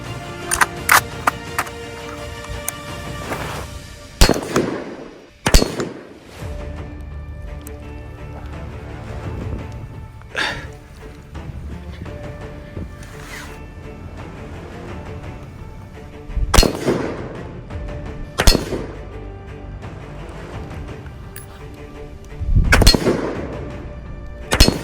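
Loud rifle shots from a rifle fitted with an Elcan Specter 1-4 optic, fired outdoors at irregular intervals. Around eight or nine sharp reports ring out, each with a short echoing tail, and no one talks.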